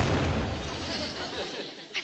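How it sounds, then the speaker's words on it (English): An aerial firework bomb bursts from a station platform, a continuous loud roaring blast of broadband noise that trails off at the end with a short final pop. "I think that last one must have been an aerial bomb."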